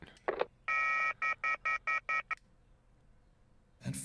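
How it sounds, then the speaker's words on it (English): A telephone call in the YIIK: A Post-Modern RPG video game opens with a short burst and then a string of clear, evenly spaced electronic tones, like dialing or a ring, before a brief pause and another burst. "That phone call was surely one of the strangest I've ever received."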